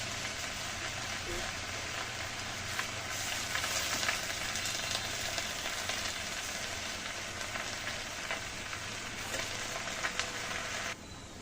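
Leafy greens (bele shak) stir-frying in a pan give off a steady, moderately loud sizzle with light scraping from stirring, continuing for several seconds before easing slightly at the end.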